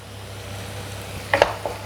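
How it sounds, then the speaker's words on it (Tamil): Onions sautéing in a pan for momos give a low, steady sizzle, with a couple of brief louder stirring clatters near the end. "வெங்காயம் கொஞ்சம் வதங்கிட்டு இருக்கு"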